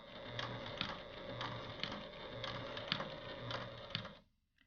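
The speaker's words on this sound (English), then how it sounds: "Then I'm going to stitch down just to that pin." A sewing machine stitches down quilt binding with a fast, even mechanical clatter and regular ticking beats, then stops abruptly near the end.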